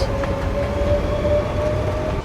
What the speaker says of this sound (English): just as we got to the platform, the train was just pulling away.